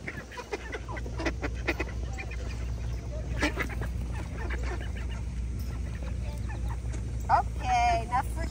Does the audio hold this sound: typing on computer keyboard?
no